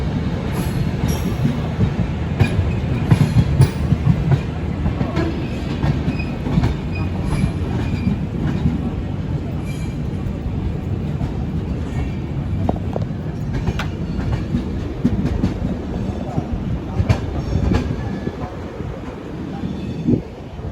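Two Amrit Bharat Express trains run side by side, a loud, steady rumble of wheels and carriages with occasional rail squeals and clatter throughout, no voices.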